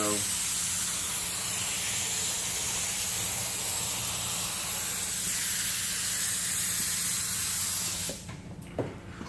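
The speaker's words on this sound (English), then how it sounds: "we're going to spray the Liquid Concepts activator on it" Liquid Concepts activator is sprayed in a continuous, loud hissing pass over carbon-pattern film for about eight seconds before the nozzle stops, leaving a few faint handling clicks.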